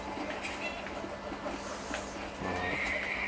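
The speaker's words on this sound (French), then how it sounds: "on va se faire le dressage de cheval" A horse neighs and whinnies in Red Dead Redemption, a loud, drawn-out call over steady game ambience with hoof clip-clops, the sound continuing without speech.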